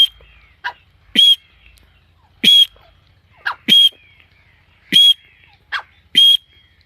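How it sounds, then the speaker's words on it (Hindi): A partridge-calling whistle blown in several sharp, high, chirping bursts, about six spaced calls over a few seconds, close and clear against a quiet background, aimed at a captive partridge pair. "अभी मैं इसको सीटी लगा के देखता हूँ कि बोलता है या नहीं"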